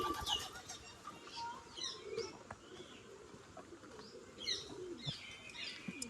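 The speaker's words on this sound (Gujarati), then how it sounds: "જો કેવા કબૂતર ચણે છે" Pigeons coo softly as they peck, among scattered bird chirps and brief wing flutters in a quiet outdoor setting at Uparkot Fort, Junagadh.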